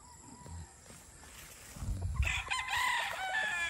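A gamefowl rooster, a Sweater crossed with Boston Roundhead, crows nearby in a single ringing call that rises out of low outdoor rumble and clucking and holds for over a second.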